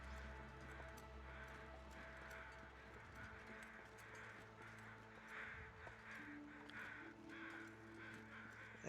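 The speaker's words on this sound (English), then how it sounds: "the crows are out there doing what crows do, which is just making a silly amount of noise" Crows caw repeatedly in a video game's canyon area, a steady scatter of harsh calls over a constant ambient hum and low droning background, with no voices.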